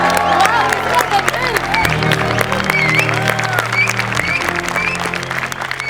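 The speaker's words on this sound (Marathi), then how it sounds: "जोरात टाळ्या." An audience at a stage comedy show claps and cheers, a sustained wash of applause lasting several seconds with crowd voices mixed in.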